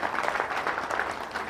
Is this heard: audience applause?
yes